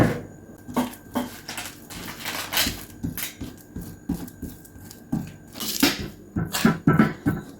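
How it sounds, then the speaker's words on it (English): A spoon scrapes and taps against a tray while flattening a plant-based mixture, making irregular clinks and scraping pats spaced over several seconds, close and moderately quiet. "I'm just gonna put it in the tray and use a spoon"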